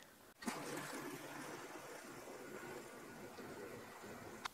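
Water runs steadily into a 3.5 gallon bucket, a soft continuous splashing stream that stays fairly quiet, with a small knock near the start and another at the end.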